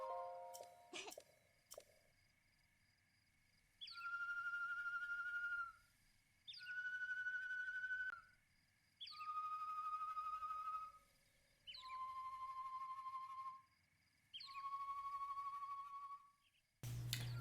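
Birds at the Warbler's Nest in The Legend of Zelda: Breath of the Wild sing a whistled pattern of five short rising phrases, each about a second long and evenly spaced, clear and close, with a few clicks at the start and no talk.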